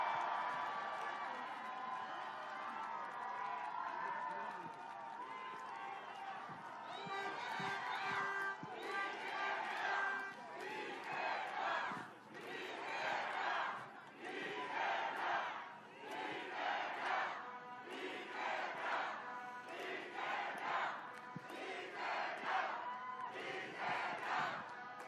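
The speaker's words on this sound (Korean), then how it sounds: "여러분 큰 함성으로 환영해 주십시오" A large crowd at a Seoul Yeongdeungpo election campaign rally roars and cheers in loud surging waves, with shouted chants rising and falling as voices mix in throughout.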